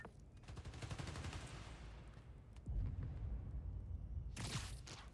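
Gunfire in the Spider-Man: Miles Morales video game, a dense rattling fusillade of rapid shots running throughout, with a heavier burst partway through and a sharp crackle near the end, no talking.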